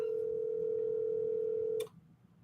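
A steady telephone dial tone hums continuously for almost two seconds, then cuts off with a brief click, leaving quiet line hiss as a call is placed.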